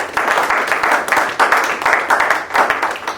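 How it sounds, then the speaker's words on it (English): An audience at an engineering awards summit applauds steadily, a dense wash of many hands clapping throughout, fairly loud and sustained with slight swells. "A round of applause for him,"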